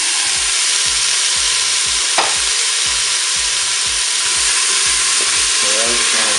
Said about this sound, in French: ça fait 1 minute que mon mini chorizo est en train de dorer. Je vais rajouter maintenant mes légumes.